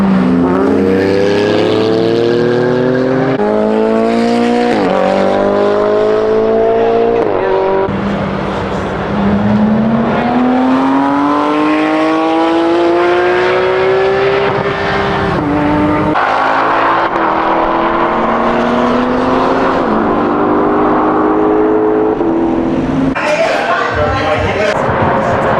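A Dodge Charger Hellcat weighing nearly 5,000 pounds drifts on a track during a ride-along at Speed Vegas, its engine loud and close, revving in rising and falling sweeps with tire squeal, and voices talking over it.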